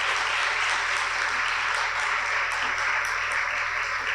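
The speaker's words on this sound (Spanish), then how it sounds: "le quiero pedir al público un gran aplauso por nuestro invitado" An audience at a history talk on La Vorágine gives a guest a sustained, dense round of applause that stays even and full throughout, with no speech over it.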